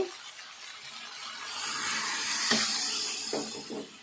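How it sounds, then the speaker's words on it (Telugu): Water pours into a cooking pot of goat head curry with a steady hissing splash, close and fairly loud, with a few soft clinks near the end and no talking. "ఇందులో ఇప్పుడు వాటర్ వేస్తున్నామండి"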